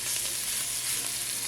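Steak sears in oil in a hot pan, giving a loud, steady, close-up sizzle that holds without a break and has no voices over it.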